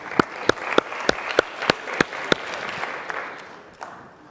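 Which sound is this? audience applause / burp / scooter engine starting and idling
audience applause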